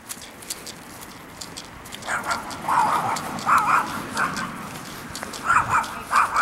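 A small dog barks sharply in bursts of yips, fairly close, outdoors near a police department with background traffic noise.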